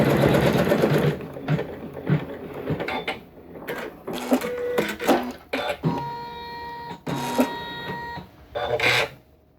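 Janome Skyline S9 embroidery machine stitching a trapunto quilting design, a busy mechanical whirring in repeated bursts with brief pauses and higher motor whines, close and fairly loud.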